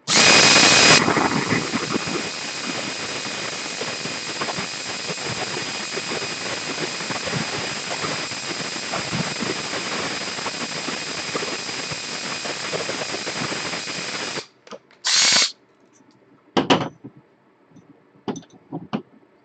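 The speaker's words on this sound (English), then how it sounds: "now we're done with the drill" A power drill whines continuously at close range for about fourteen seconds while a Prusa i3 MK2s printer is assembled, then stops and gives way to a few brief, sharp bursts and clicks.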